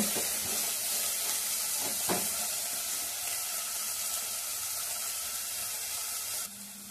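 Cauliflower, carrot and peas frying in a pan for fried rice give a steady close sizzle with a couple of stirring knocks early on, dropping slightly in level near the end.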